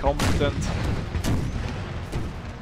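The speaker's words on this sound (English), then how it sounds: "quite competent artillery fire" Artillery fire booms through a video game battle set in an American Civil War scenario with British intervention, several dull thuds rolling under a steady roar of battle noise and murmuring voices.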